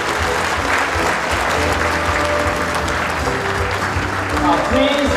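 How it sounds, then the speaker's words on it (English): An audience applauds at a live-streamed Shimadzu event, with dense, steady clapping throughout the clip and a voice speaking over it near the end. "please give them another round of applause again"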